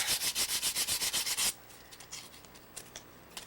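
Burrs on the edge of an SKS rifle bolt are sanded with a quick run of rhythmic rasping strokes, about ten loud, close passes, then quieter scattered scraping, with no talking.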